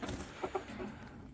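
Chickens clucking faintly at a distance, with a couple of soft, short calls over a low background murmur of farmyard noise.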